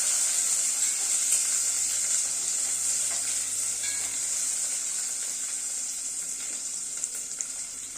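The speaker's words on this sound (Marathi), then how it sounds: "शिमला मिरची सुद्धा मी छान परतून घेते" Capsicum sautéing in a pan, a continuous close sizzle and hiss of frying that holds steady throughout with faint stirring in places and no talking.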